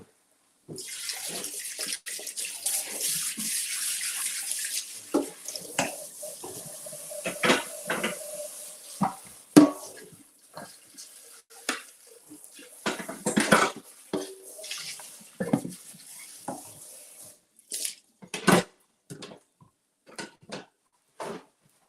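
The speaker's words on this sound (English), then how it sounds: "Let me just rinse this out." Running tap water pours steadily into a sink while something is rinsed out, with intermittent splashes, clinks of dishes and knocks throughout, close and fairly loud, no talking.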